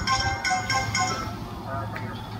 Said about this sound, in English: Sorry, just my phone.